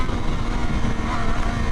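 A 2023 Triumph Street Triple R motorcycle with a triple-cylinder engine runs at a steady, even drone with a rough low rumble, heard alone and at moderate level without voices.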